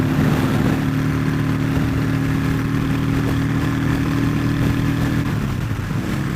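Honda Shadow motorcycle engine running close and loud, a steady rumbling drone with a strong low hum that eases slightly toward the end.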